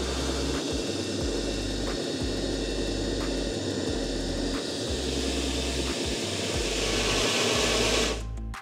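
A Daewoo DAS80 sweeper machine runs with a steady whirring motor drone while its brushes are lowered to the spacer screws, accompanied by a repeating low rhythmic thumping, close and continuous before cutting off at the end.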